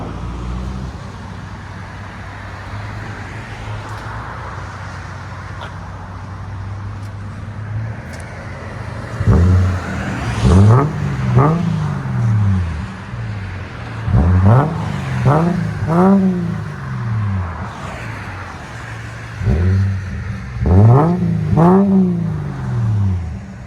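A 2008 Subaru Outback with a 3.0L engine and Flowmaster Super HP2 exhaust idles with a low steady rumble, then is revved in several sharp bursts that rise and fall, loud and close.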